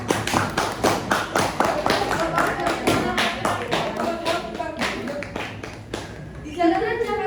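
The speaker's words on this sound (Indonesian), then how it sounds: "Suara tepuk tangan teriak" A crowd in the streets of Jakarta celebrating Habibie's inauguration claps in a quick, steady rhythm of loud hand claps that fades near the end. Voices call out among the clapping.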